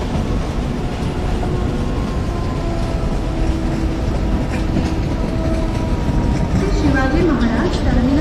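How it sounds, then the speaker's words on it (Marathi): A slow local train pulls into Masjid station in Mumbai in the Open Rails train simulator, with a steady loud rumble of wheels and carriages, a few tonal squeals near the end, and faint announcements underneath. "local is arriving shortly on platform number 1 is 11 hours 26 minutes slow local for Kasara"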